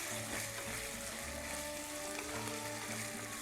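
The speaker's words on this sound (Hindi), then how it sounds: "इसको चला लीजिए थोड़ा अच्छे से। इनके छींटों से घबराइएगा नहीं" Chicken frying in hot oil while being stirred, with a loud, dense, continuous sizzle and crackle of splattering fat filling the clip and no gaps.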